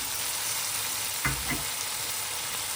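Cauliflower frying in masala, a steady hiss of sizzling oil with a couple of soft thuds or stirring knocks in the middle, close and even, with no talk.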